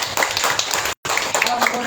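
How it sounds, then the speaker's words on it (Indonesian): A church congregation at a Sunday service claps in praise, producing a dense, close burst of hand claps with a brief total dropout in the middle before the clapping resumes. "Kita bagi tepukan yang Tuhan."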